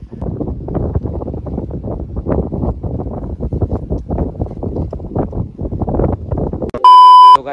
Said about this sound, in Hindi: तो गाइस बहुत ही हवा चल रहा है